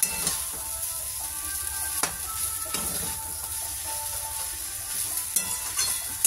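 Egg chicken chow mein frying and being stirred in a pan, a steady close sizzle broken by several sharp scraping clatters of the stirring utensil.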